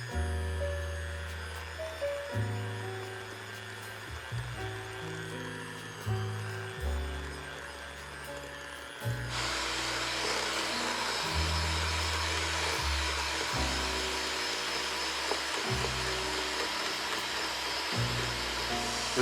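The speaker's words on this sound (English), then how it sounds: "We're gonna use a hand mixer today." An electric hand mixer whirs steadily in a bowl of brown butter for cookie dough, starting at a lower hum and jumping to a louder, higher-speed buzz halfway through, heard close over background music.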